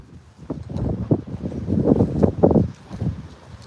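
Gusty typhoon wind in Taiwan buffeting the microphone in uneven rumbling surges, loud and close, rising and falling over a few seconds.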